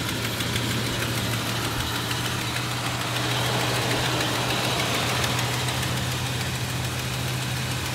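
A 383 big-block V8 in a 1971 Dodge Coronet Custom sedan idles nearby with a deep, steady rumble and a slightly uneven lope, continuous and unaccompanied by voices.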